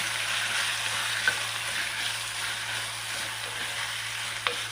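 Boiled raw mango sizzles gently and steadily in a hot pan, with a couple of faint spoon scrapes as it is stirred, no voices.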